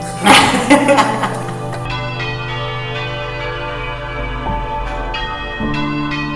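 Church bells peal in a rich, sustained ring, strikes overlapping and resonating steadily, loud and close with a long humming decay.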